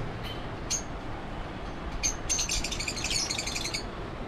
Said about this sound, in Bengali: আপনারা দেখতে পাচ্ছেন যে আমার পাখিগুলো কিন্তু বেশ হাঁপাচ্ছে